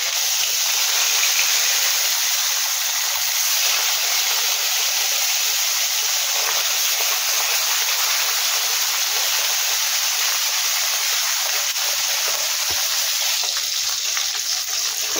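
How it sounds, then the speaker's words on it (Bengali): A hilsa fish tail fries in a pan of hot oil, giving a loud, dense, close sizzle that holds steady and unbroken throughout, with no voices. "তো একটু ভেজে নিচ্ছি আমি মাছটাকে"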